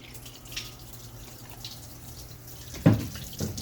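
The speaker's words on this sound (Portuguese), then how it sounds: "Então eu tô jogando água, tirando todo o pó de ferro por aqui, ó." Water poured over a Citroen C3 cylinder head during a rebuild, rinsing iron dust out of the cooling passages; a steady low running-water wash with a few louder splashes near the end.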